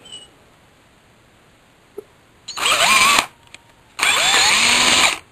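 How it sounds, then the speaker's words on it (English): A power drill boring a 5/16 hole for a bench pin pagoda, two loud, close whirring bursts of about a second each, separated by a short pause with a faint click. "And then we drill another one that's at 5/16 exactly."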